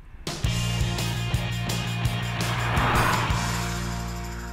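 A 2014 Peugeot RCZ R coupe's engine pulls hard and revs up as the car accelerates, loud and close, with faint clicks and tire noise over the steady drone.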